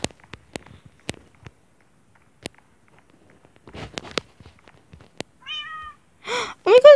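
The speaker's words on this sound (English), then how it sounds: "Oh my god, it's my own kitten!" A video game kitten meows twice near the end, loud and close, after a stretch of light tapping footsteps and clicks.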